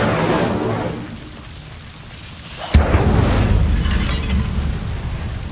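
An Incendio fire spell is cast in Hogwarts Legacy against Devil's Snare, a sharp crack followed by a loud, sustained whooshing roar of flame that keeps going to the end.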